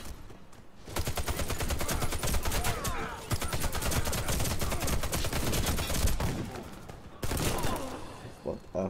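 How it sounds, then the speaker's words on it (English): Rapid, loud gunfire from the video game Warface rattles almost nonstop in dense automatic bursts, with only brief breaks near the start and toward the end. "I need to just shoot my guns."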